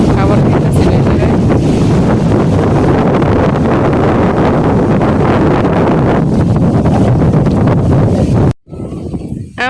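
Wind blows hard across an open village, buffeting the microphone in a loud, continuous rumble for most of the stretch before it cuts off abruptly near the end.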